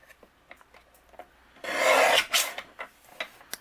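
A paper trimmer slices through a cardstock panel in one loud, close rasping cut that lasts about half a second. A second shorter swipe follows it, then a few light clicks and taps.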